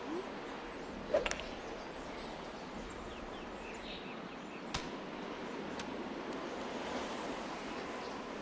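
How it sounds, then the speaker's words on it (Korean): Strong wind blowing on the golf course in Wii Sports, a steady whooshing rush running throughout with a couple of brief sharp clicks layered on top. "바람이 세게 불고 있죠"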